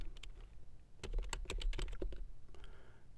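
Rapid keystrokes on a computer keyboard as an iwconfig command is entered in a terminal, a dense run of clicks starting after a second of lighter tapping, close and clear with no talking.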